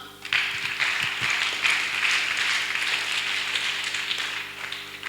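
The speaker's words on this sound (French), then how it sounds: "On acclame." An audience claps together at a religious gathering, a dense, even wash of applause that rises quickly and holds steady for several seconds without speech.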